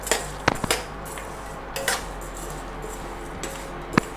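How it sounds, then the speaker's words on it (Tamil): Black pepper, cumin, fennel and turmeric dry-roasting in a pan, heard as sharp metallic clinks and scrapes of a spoon against the pan at irregular intervals over a faint background, no talk. "மிளகு, சீரகம், சோம்பு, மஞ்சள் 3ஐயும் சேர்த்து ஒன்றா போட்டு வரும். நல்லா சூடு பொறுக்க வாசம் வரும் வரைக்கும் வறுக்கணும்."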